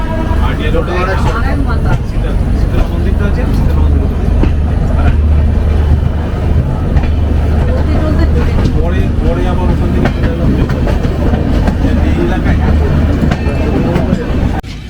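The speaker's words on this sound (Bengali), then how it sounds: "ট্রেন আবার চলা শুরু হয়ে গেছে" Mithila Express train running from Howrah toward Raxaul, a loud, steady onboard rumble with rattling carriages and faint rhythmic clacking throughout, with voices talking over it.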